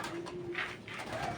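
Racing pigeons in a home loft coo in soft, throaty bursts, close and fairly quiet, with a couple of rounded calls overlapping.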